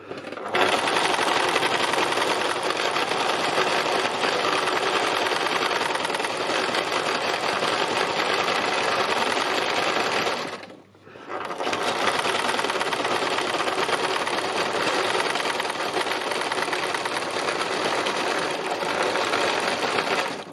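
A sewing machine stitches fabric with contrast thread in a loud, close, continuous rapid whirring drone, briefly stopping once midway before running on steadily again.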